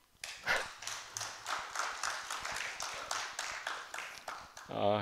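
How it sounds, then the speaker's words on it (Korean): A lecture audience claps in a scattered, uneven burst that swells and trails off, with a speaker's voice briefly heard near the end. "그럼 박수 한번 주십시오."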